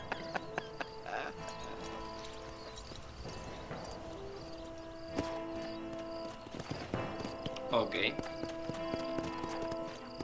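Horse hooves clip-clop steadily in the Western video game Red Dead Redemption, with occasional snorts and a whinny, under game music and spoken voices.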